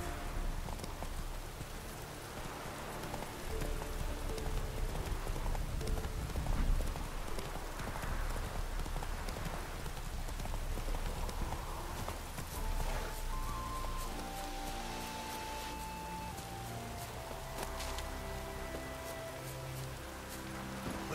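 Hooves of Roach, the horse in The Witcher 3: Wild Hunt, clip-clop in a steady rhythm throughout, close and clear over a soft bed of rain and rustling ambience, with game music tones entering later.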